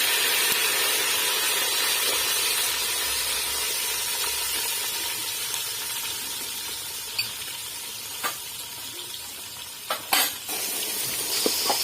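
A tadka tempering sizzles steadily in hot oil in a home kitchen while being stirred, a constant hiss with a few light clinks of a utensil against the pan near the end, no talking.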